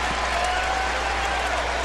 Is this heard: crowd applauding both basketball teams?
yes